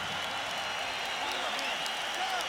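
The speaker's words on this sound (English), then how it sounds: "a round of applause for 2 warriors who gave it everything they had in this ring" Boxing arena crowd applauding two fighters after the final bout of the Gatti–Ward trilogy, a broad, fairly distant roar of clapping and cheering with a faint voice over it.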